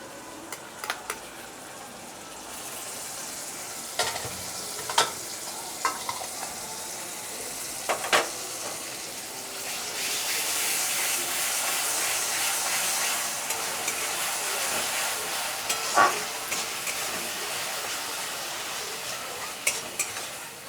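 Onions frying with ginger paste and an onion-garlic-chili paste, a steady sizzle that swells louder midway, broken by repeated scrapes and clinks of a spoon stirring against the pan.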